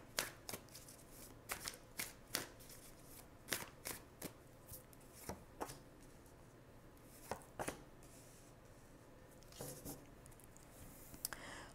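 Tarot cards are shuffled by hand in a quiet room, with soft riffling and a string of crisp, irregular card snaps and taps close to the listener.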